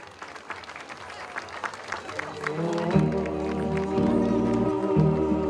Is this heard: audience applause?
yes